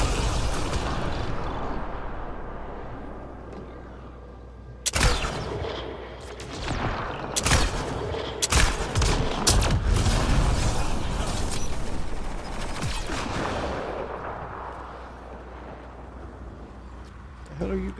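Dense gunfire and weapon blasts in the sci-fi shooter Mass Effect: Andromeda, sharp bursts and repeated shots over a rumbling mechanical bed, with voices talking in between.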